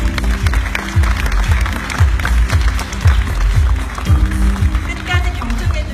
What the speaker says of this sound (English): please give two executives a big round of applause.